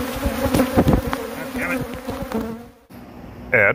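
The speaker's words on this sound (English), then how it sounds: "Add buzzing noise." An insect buzzes loudly in a DIY Dingdong game setting, a wavering drone over a busy mix of other sounds, dropping out briefly before a sharp, louder burst at the end.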